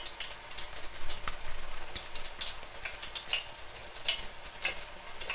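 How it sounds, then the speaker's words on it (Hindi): Seekh kebabs fry gently on low heat, a soft, steady sizzle with light crackles and pops throughout, fairly quiet and close, with no talking. "तो आपने इनको बिल्कुल हल्के हल्के ही फ्राई करनी है।"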